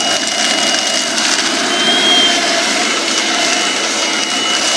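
A hair blower converted into a homemade vacuum cleaner runs continuously, a loud, steady whirring rush with a faint high whine, close by and without speech.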